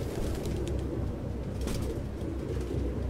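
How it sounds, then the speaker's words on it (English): Pigeons coo and flutter inside a cluttered apartment nest in the video game Detroit: Become Human, a dense, continuous murmur of many birds close by with no talk. "No human could live with all these fucking pigeons."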